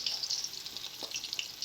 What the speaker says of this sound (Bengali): সুন্দর করে ভেজে নেবো একদম কাঁচা কলাগুলোকে।